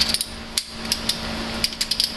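Sharp metallic clicks from a torque wrench on the cylinder head bolts of a 2.4 PT Cruiser, irregular taps scattered over a steady mechanical hum, close and fairly loud.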